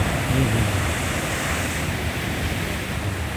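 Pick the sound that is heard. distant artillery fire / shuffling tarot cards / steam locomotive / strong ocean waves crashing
strong ocean waves crashing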